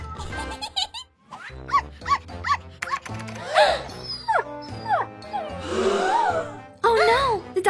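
A puppy yips and barks in short bursts over cartoonish background music, close and fairly loud.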